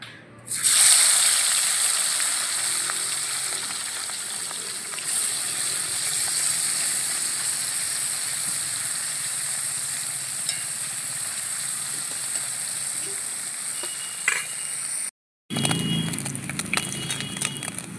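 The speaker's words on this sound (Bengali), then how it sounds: "তেলটা গরম হয়ে গেছে এবার মাছগুলোকে ভেজে নেব" Small fresh river fish fry in hot oil, giving a loud, continuous close-up sizzle and hiss that holds steady throughout, broken only by a brief cut near the end.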